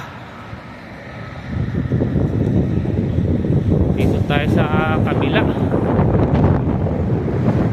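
Strong wind buffets the microphone in a steady roar while a person speaks briefly nearby.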